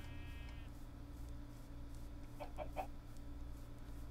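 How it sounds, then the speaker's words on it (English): A chicken in a farming video game gives a few quick clucks near the middle of the clip, fairly faint over a steady low game hum and a brief chirpy tone at the start. "Yes, I see you, chicken."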